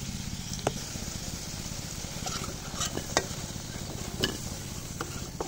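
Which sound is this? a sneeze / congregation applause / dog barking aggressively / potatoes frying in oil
potatoes frying in oil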